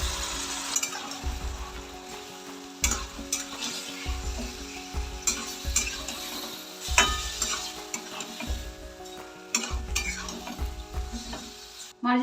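Marinated mutton sizzles in a pan of browned onions for a slow-cooked kosha mangsho curry, with loud, steady frying and rhythmic scrapes and clatters of a spatula stirring throughout.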